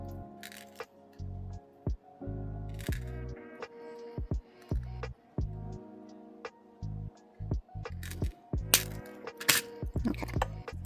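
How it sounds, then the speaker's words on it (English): Metal cutters clip a link of a wire jewelry chain, giving sharp clicks and small metallic snaps among handling noises, irregular and close, with no talking. "Just want to cut that one link."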